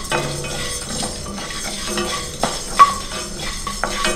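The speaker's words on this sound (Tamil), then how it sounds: "ட்ரையாக வறுக்க போகிற மாதிரி எதுவும் போட எண்ணெயெல்லாம் ஊற்ற வேணாம், சும்மாவே வறுக்கணும்." Black peppercorns dry roasting in a pan with no oil give a steady light sizzle with scattered clinks and stirring scrapes of a utensil against metal, close and continuous with no talk.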